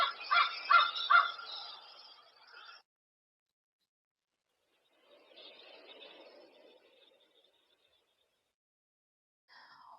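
Crows cawing, a few loud harsh calls in quick succession, then a fainter, rougher stretch after a pause and one more brief call at the end, with silence in between.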